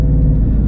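A twin turbo Mustang GT engine roars loud and close in a brief, steady low rumble, a short burst of heavy engine sound with no talk over it.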